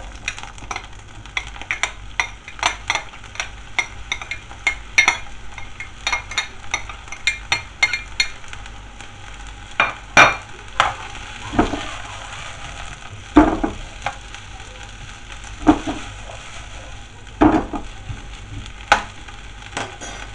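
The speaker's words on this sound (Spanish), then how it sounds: "vamos a saltear primero lo que son las verduras. Un poquito de aceite, dejamos calentar bien" Vegetables sautéed in hot oil in a pan, a constant near sizzle punctuated by frequent sharp clicks and knocks of a utensil stirring against the pan.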